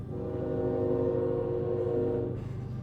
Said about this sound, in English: this train being loud as hell